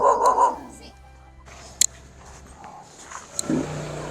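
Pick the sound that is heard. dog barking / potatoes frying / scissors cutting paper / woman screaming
dog barking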